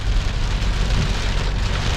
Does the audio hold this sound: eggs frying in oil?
no